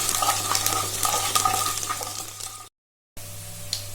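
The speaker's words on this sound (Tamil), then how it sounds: "இப்போ பூண்டையும் சேர்த்துக்கலாம்." Garlic, dried red chillies and curry leaves frying in hot oil for tamarind rice: a steady, loud sizzle and crackle with stirring scrapes close up, cut by a brief silence before the frying resumes more quietly.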